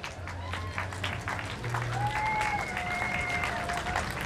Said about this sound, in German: Antea, hier ist dein Applaus.